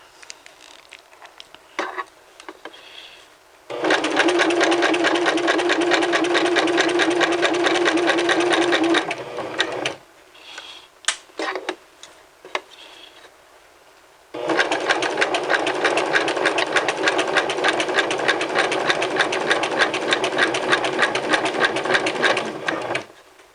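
A home sewing machine runs in two long bursts stitching a dress hem, loud steady motor whir with rapid needle clatter, separated by a pause with small handling clicks.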